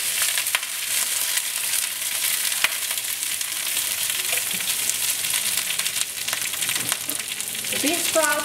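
Loud, steady sizzling of rice noodles (kwetiaw) stir-frying in a hot pan, with occasional clatter of stirring and a few brief knocks, continuous and close throughout.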